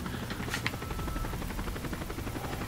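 Helicopter in Call of Duty: Modern Warfare 3, a steady rotor thrum with rapid rhythmic chopping held at a constant level throughout, with a brief brighter burst early on.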